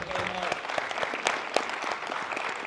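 Audience applause at an industry talk, a steady patter of many hands clapping close by throughout, with a brief voice underneath near the start.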